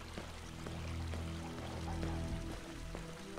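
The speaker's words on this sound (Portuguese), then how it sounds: "A fluidez da água está bonita" Water flows and pours steadily in the Hitman video game, a soft continuous rushing that stays fairly quiet throughout, with no voices.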